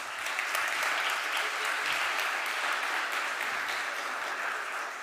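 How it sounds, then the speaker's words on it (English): An audience at a UN high-level pledging conference applauds pledging countries, a broad, even wash of many hands clapping that holds steady and fairly distant for five seconds, with no voices on top. "And I think that deserves a big round of applause."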